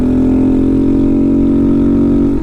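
A Honda Monkey fitted with a Chimera short ram intake and Takegawa aftermarket exhaust idles close and loud, a steady throaty drone that holds evenly before easing off at the very end.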